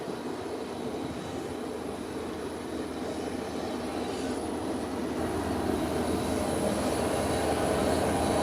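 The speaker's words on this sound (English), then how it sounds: "the ramp vehicles are busy going to their parking area" Ramp vehicles drive off to their parking area after servicing an ATR aircraft on an airport apron, heard as a steady, broad engine rumble and drone that swells slightly toward the end. It is continuous with no voices.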